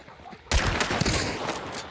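A single loud gunshot fired in the multiplayer shooter game Hunt: Showdown cracks suddenly and is followed by a long rolling echo that fades slowly.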